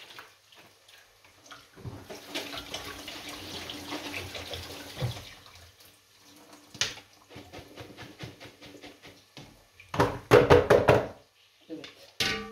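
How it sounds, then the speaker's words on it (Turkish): Food for cooking is washed by hand under a running kitchen tap, with water streaming and splashing in bursts, knocks and clatters of handling, and a louder spray near the end. "Şöyle pişireceğim kadarını yıkayım"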